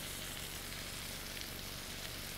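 Mushrooms fry in one pan over a woodland campfire with a steady, dense sizzle that runs unbroken and close throughout, and no one speaks.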